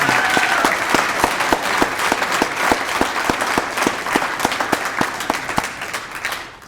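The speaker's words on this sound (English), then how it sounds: "Let's give them another round of applause." Audience applause at a literary prize ceremony, a dense, steady wash of many hands clapping for nearly seven seconds, loud and close, with a few sharp individual claps standing out before it tapers away at the end.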